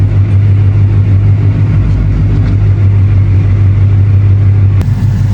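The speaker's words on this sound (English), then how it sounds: "so far the engine is working very good" Ford Mustang GT engine running close by, rebuilt after crash damage, with a steady loud low rumble and slight throttle swells throughout, ending with a brief sharp change near the end.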